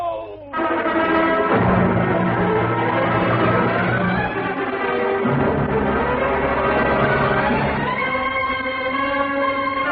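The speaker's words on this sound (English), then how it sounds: "the bells rang out in Cagliostro Street" Church bells ring out in a BBC radio drama, a dense, sustained peal of overlapping tones that swells loudly and keeps clanging for several seconds with no voices.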